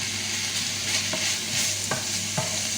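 Ground meat is broken up and fried in a pan, with a steady close sizzle and a few scraping strokes of a utensil breaking the meat apart.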